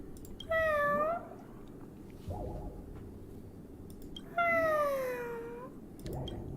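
Cats in the Honkai Star Rail cat event meow in two clear, drawn-out calls several seconds apart, close and alone, each followed by a softer short sound.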